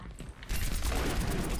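A sudden dense volley of repeated shotgun blasts from Reaper's ultimate in the video game Overwatch erupts after a quieter moment, loud and close, continuing without pause.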